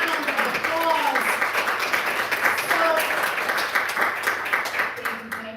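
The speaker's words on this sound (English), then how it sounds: "Give yourselves a huge round of applause." Audience applause at a library writer-in-residence celebration, a steady broad wash of clapping sustained for several seconds at fairly even loudness, with some voices mixed in.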